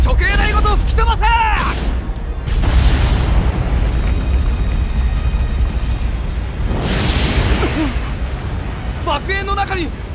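A massive explosion blows apart the execution platform in One Piece Pirate Warriors 3, loud booming blasts and rumbling debris surging in waves, with voices shouting over the destruction.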